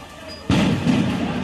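One sudden heavy bang from a crude country-made bomb set off amid post-election street clashes in West Bengal, followed by a lingering rumble and ambient noise from the street.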